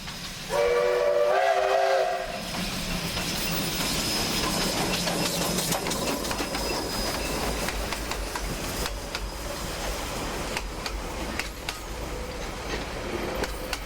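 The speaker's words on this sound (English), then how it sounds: "Locals board the train in Wanganui for a run over the Castle Cliff branch" A train whistle sounds briefly before the steady rumble and clatter of a train rolling along the rails continues throughout, on the Castle Cliff branch line at Wanganui, New Zealand.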